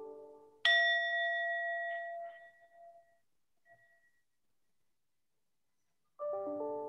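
A memorial bell is struck once at a community service awards ceremony, ringing clearly and fading over a few seconds before a second strike begins near the end.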